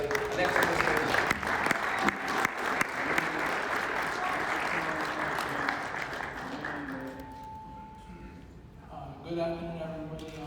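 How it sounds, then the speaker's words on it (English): Audience at a boxing press conference applauding, a dense burst of clapping that carries for several seconds and then fades away, with a voice talking faintly toward the end. "I want a big round of applause for everybody on the stage."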